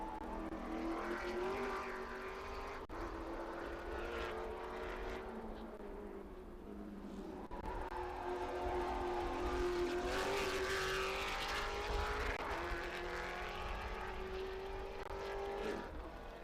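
TA2 race cars lapping during qualifying at Mid-Ohio, a sustained engine drone that swells and fades as cars pass, with rising and falling pitch throughout and no talk.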